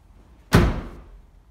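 A rear barn door on a Nissan Patrol GU3 being swung shut, giving one solid, close slam with a short rattling decay and no talk.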